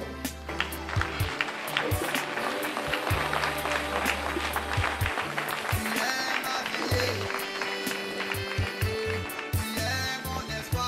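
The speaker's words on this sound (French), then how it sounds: "qu'on se lève, on acclame le prophète Olivier David" A church congregation applauding a prophet, dense sustained clapping and cheering from a crowd indoors, mixed with music and voices throughout.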